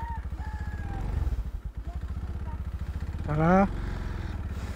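Rusi Gamma 200 motorcycle at full throttle, a close, rhythmic pulsing engine note that swells briefly toward the end, with a rider's voice talking over it.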